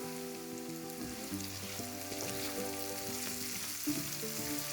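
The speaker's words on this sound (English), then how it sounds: "Frying the onions like this until the raw smell goes away gives a wonderful taste" Onions, red chilies, curry leaves and crushed garlic fry in a pan for cauliflower sabji, a steady close crackling sizzle with soft stirring scrapes and a faint tonal hum underneath.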